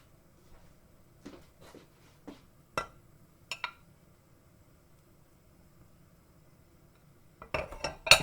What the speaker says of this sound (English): Just slicing it thinly so it melts faster.